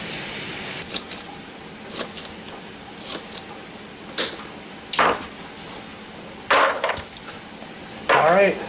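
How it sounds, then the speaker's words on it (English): Green string beans cut on a board with a knife, a steady run of crisp chopping knocks about once a second, some strokes doubled and heavier near the end, close by with no talk. "beans are all cut up"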